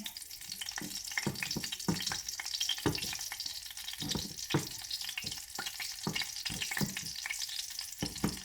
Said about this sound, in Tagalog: Mainit ang aking mantika. Ayan, ito na natin ang ating fish fillet.